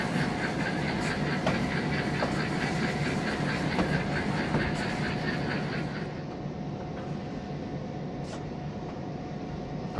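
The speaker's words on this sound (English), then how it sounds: "here we are shoving the last cut into the yard to hold for now" Freight train rolling in the Trainz 2019 simulator, shoving a cut of cars into a yard: a steady, dense rumble of wheels and engine with faint clicks, continuous throughout and slightly quieter toward the end.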